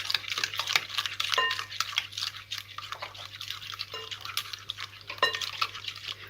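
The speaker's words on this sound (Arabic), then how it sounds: "طبعا احنا بنشتغل بالويسك كمان، مش بنضرب ولا خلاط ولا اي حاجه" A hand whisk beats sugar into pancake batter in a bowl, giving quick, rhythmic scraping and tapping strokes that run close and continuous without any talking.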